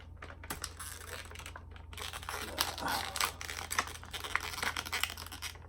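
Plastic toy packaging for NECA Heroes of the Storm figures is torn and unwrapped, giving close, irregular crinkles, rips and scratchy rustles in quick bursts.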